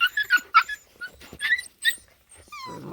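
A puppy whimpers and yips in a pasture in a string of short, high, close-up whines, with a few soft breaths between them and no speech.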